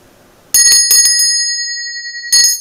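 A bright bicycle-style bell rings close and loud, a quick cluster of dings that ring out, then one more ding near the end.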